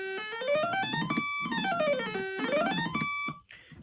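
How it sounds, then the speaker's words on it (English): A thin, buzzy electronic Stylophone plays high lead notes that glide up and down in quick sweeps, close and clear, ending abruptly. "Or if you're into like really high lead sounds like this."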